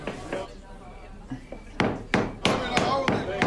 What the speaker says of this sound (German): Scharnierstifte, Hammer.